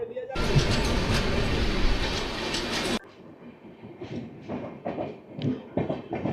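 The Shantiniketan Express pulls out of platform 2 at Bardhaman Junction with a loud, rushing roar and rhythmic wheel clatter that cuts off abruptly to quieter ambience with a person talking.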